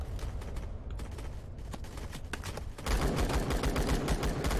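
Dense, sustained gunfire in the Roblox game Blackhawk Rescue Mission 5, rapid overlapping shots and automatic bursts that swell louder after a few seconds, with no talk.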